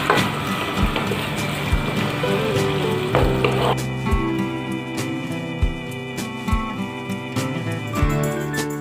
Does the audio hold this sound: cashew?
yes